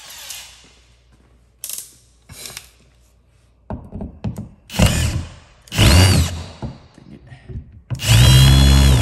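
A power drill whirs in several short bursts with ratcheting clicks and handling noises between them, close by with quiet gaps, while a smart thermostat is being installed.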